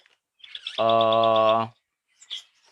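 A bird in an aviary gives one sustained, bright trilling call lasting about a second, clear and near against silence, followed by a faint short chirp.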